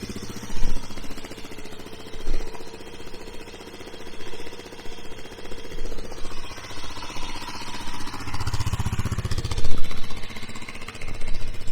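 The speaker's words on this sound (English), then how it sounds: "Give you guys a little bit of a startup here to let you know what the stock exhaust sounds like" A 2021 Kawasaki KLX 300SM dual-sport motorcycle, 292cc single with stock exhaust, fires up and settles into a steady, moderately loud idle with a mechanical clatter and small throttle swells.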